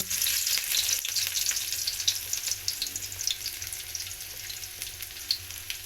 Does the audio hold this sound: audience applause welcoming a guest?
no